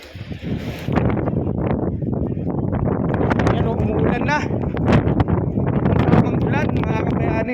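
Strong storm wind in Libya roars and buffets steadily with a constant wash of rain noise, while a voice speaks over it.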